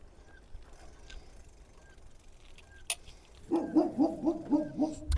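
A pit bull barks in a neighbourhood street, a run of about six rhythmic, fairly close barks that begins after a few seconds of quiet background and one sharp knock.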